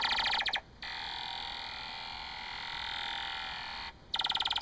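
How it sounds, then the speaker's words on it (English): A steady, buzzy electronic tone from an ionosonde, received on a one-tube regenerative radio, with rapid pulsed chirps just before and after it, over a faint hissing background. "That's the sound of an ionosounder, a device used to measure the height of the ionosphere."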